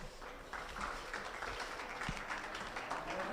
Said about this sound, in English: I'd like to give a big round of applause for the kids and all their hard work